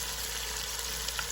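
Finely cut vegetables for egg fried rice sizzling steadily in hot oil, a continuous close hiss at an even level with no voices.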